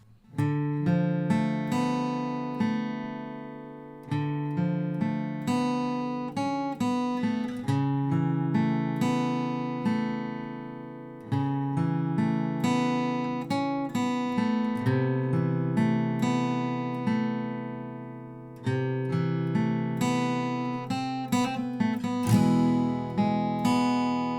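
Guitar picks out the intro of a song with arpeggiated chord notes and occasional strums, moderately quiet and close, repeating a pattern for over twenty seconds.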